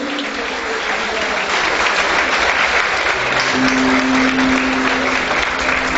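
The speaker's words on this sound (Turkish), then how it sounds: "Kocaman bir alkış istiyorum." Loud applause at a neighbourhood political meeting in Turkey, dense clapping from a packed room, steady and close throughout, with a faint low tone joining partway.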